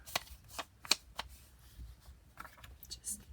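Scissors cutting sheet music paper for a craft tag, a few short snips spaced through the clip over a quiet background.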